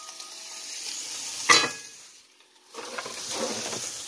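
Egg and ham frying in a pan, with a steady close sizzle, a sharp clink partway through, a short lull, then the hiss picks back up.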